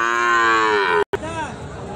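Cattle moo loudly and close by at a cattle market in Raniganj selling Sahiwal bulls and calves, a long drawn-out low call that breaks off briefly, then a second moo follows and trails away.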